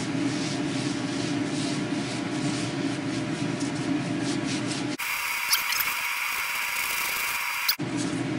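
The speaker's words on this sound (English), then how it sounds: "I had a dry rag, not a wet rag, and I buffed it off." A dry rag rubs and buffs across a laser-engraved granite stone tile, giving a steady close scrubbing hiss that switches partway through to a brighter, thinner rubbing texture before returning, with no talk.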